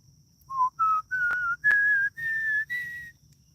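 A person whistles a rising run of short clear notes, six or seven tones stepping upward one after another, fairly quiet, with nothing else heard.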